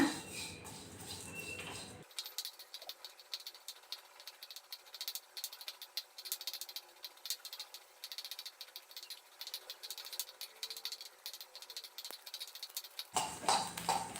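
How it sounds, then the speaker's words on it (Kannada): Four tablespoons of coriander seeds and a spoon of mustard seeds crackling and popping as they dry-roast for thili saaru, a quiet, irregular patter of tiny snaps that keeps going throughout. "ಚಿಟಪಟ ಅಂತಿದೆ ನೋಡಿ ಆ ಥರ ಸೌಂಡ್ ಬರಬೇಕು"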